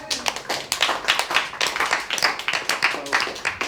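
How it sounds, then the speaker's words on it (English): Audience applause at a political talk, dense steady clapping from many hands filling the whole stretch at moderate loudness, with no voices over it. "Give them a round of applause."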